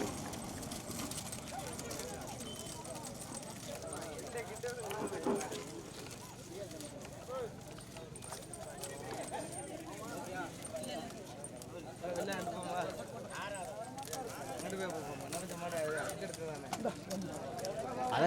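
Bullock cart race with hooves clip-clopping amid a noisy outdoor crowd, a dense, continuous rumble of hoofbeats and movement under steady chatter and shouting voices.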